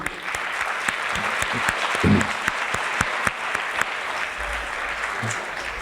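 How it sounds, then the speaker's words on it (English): A crowd at a high school sports awards ceremony claps steadily throughout, a dense wash of applause with a few sharper, closer claps standing out. "you all certainly deserve a round of applause for contributing."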